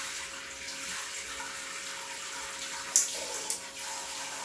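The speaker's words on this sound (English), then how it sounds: "That's a little bit softer, like a traditional rain shower." Water falls from a rechargeable Companion Aqua Cube Logic camping shower on its softer rain-shower setting, a steady, even hiss broken by two short sharp clicks near the end.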